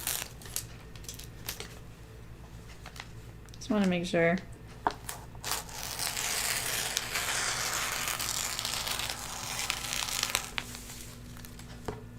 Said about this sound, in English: So I'm just going to very carefully cut this piece of paper off here.